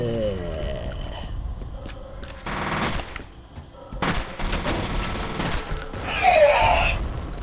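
Gunfire in the shooter game F.E.A.R., with bursts of rapid shots and heavy impacts mixed with game effects and an explosion, while a player talks over it.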